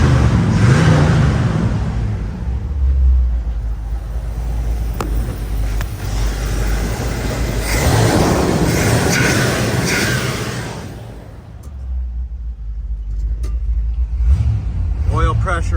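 A 1964 Chevrolet Impala engine runs close by with a low rumbling idle, swelling and easing, then fading as it shuts off near the end, with someone talking over it.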